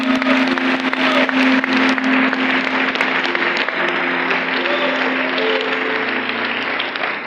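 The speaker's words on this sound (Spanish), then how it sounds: "Dale un fuerte aplauso al Señor." Dense, loud applause from a church congregation during a sermon, sustained evenly throughout over a steady droning keyboard tone, with scattered sharper claps standing out from the crowd.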